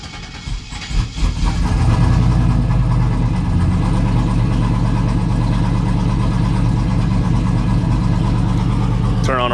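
A Chevrolet Silverado with a single turbo starts cold and settles into a steady, loud, slightly rough idle with a low rhythmic rumble that runs close up through the whole clip.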